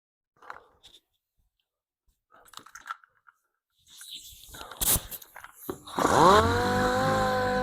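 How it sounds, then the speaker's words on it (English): An orbital sander spins up on a 2007 Mustang to sand out a stone chip in the paint, preceded by faint handling clicks, its motor whine rising and holding steady, close and fairly loud. "I'll sand that out with the orbital."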